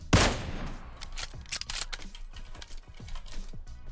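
Gunfire in the battle-royale game PUBG Mobile: a loud close shot opens, followed by a rapid scatter of sharp cracks and clattering impacts through the rest, with no talk.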